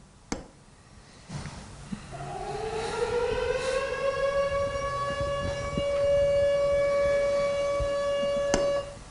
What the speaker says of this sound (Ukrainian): тоді зараз вімкнеться сирена